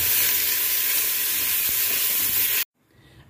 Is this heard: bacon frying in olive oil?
yes